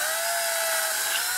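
Power drill with a metric bit boring into a plastic Xbox One game controller shell, a steady high-pitched whine held continuously and up close with no pauses.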